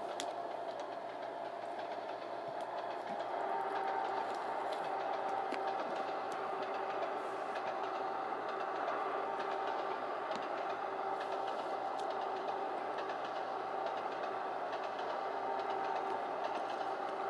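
An Acela Express train in Trainz Simulator 2 runs at full speed with a steady, dense rumble and rail roar, plus faint clickety-clack, continuous and loud throughout with no talking.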